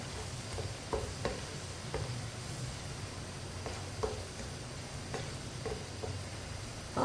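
Chicken seasoned with salt and black pepper stirred in a frying pan: soft, faint sizzle under repeated scraping taps of the spoon, spaced irregularly about once a second.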